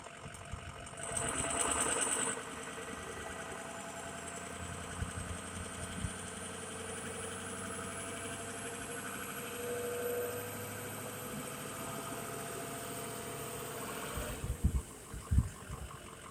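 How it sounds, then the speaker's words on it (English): A diesel engine's turbo slowly spooling up, a steady low drone under a thin whine that climbs gradually in pitch over many seconds, with a brief rattling burst early on and a few clunks near the end. "do you see how long it took to spool that frickin' turbo"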